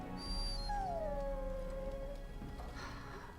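A dog in the fantasy role-playing game Dragon Age: Origins whimpers and howls, one long, drawn-out, falling whine over a quiet, low game ambience, with a brief higher yelp near the start.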